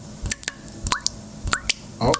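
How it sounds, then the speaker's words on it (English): Water drips and splats in a handful of separate drops, each a short sharp plink with a slight squishy tail, spaced irregularly and heard up close in a quiet space. "got a drip"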